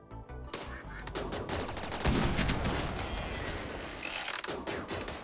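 Gunfire crackles in the colony strategy game Rimworld, with a flurry of overlapping shots and bursts that swell into a dense volley and then thin out, fairly faint overall.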